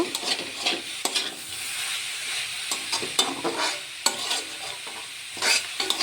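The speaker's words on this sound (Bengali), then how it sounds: "ভালো করে নাড়তে থাকবো না হলে দুধটা একসাথে ডলা পেকে যাবে" Carrot halwa cooking with milk is stirred steadily in a pan, with repeated close scraping and sizzling strokes in an irregular rhythm and no talking.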